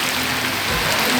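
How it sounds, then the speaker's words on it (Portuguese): Heavy rain pours steadily in a rural town in Pernambuco, Brazil, a dense, even hiss filling the whole stretch with no voices. "Isso é bom assim, chovendo, né?"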